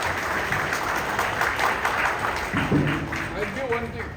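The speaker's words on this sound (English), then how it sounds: "I need give a good clap" Audience at an LIC Kottayam Division gathering clapping, a dense steady wash of many hands at moderate distance, with voices and some tonal sound rising near the end.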